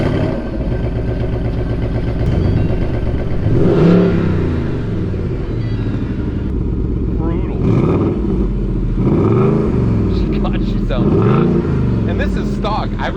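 A loud Ford Mustang GT V8 engine, stock, rumbles at idle and then revs up repeatedly in deep, throaty surges, close by.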